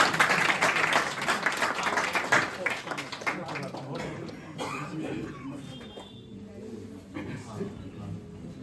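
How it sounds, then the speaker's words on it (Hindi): A crowd at an outdoor political public gathering in a park applauds as a guest is invited to the stage, dense clapping that is strongest at first and then thins out under crowd noise. "जोरदार तालियां, तालियों की गड़गड़ाहट कम ना हो"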